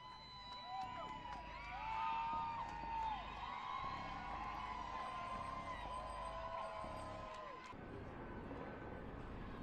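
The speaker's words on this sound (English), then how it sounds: "What are they cheering for?" A street crowd cheers and whoops amid a riot scene with cars held up on a highway, distant shouting swelling and fading over a low rumble of traffic and voices.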